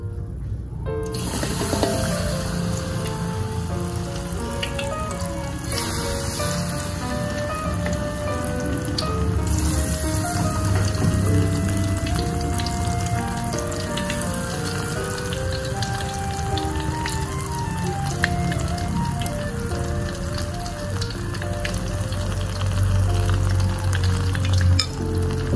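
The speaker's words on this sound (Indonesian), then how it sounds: "Sekarang siap untuk kita goreng teman-teman." Corn fritters frying in oil in a wok over medium heat give a steady, close sizzle and crackle that runs unbroken beneath background music.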